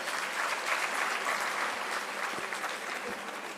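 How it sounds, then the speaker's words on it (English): A crowd at an academic conference applauds steadily, dense clapping that holds strong and then eases slightly toward the end. "So a big round of applause to her."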